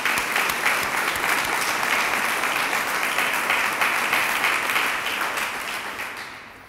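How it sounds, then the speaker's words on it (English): An audience at a math and science initiative results announcement claps in sustained, dense applause, loud and even for several seconds before tapering off toward the end. "So let's give them a round of applause."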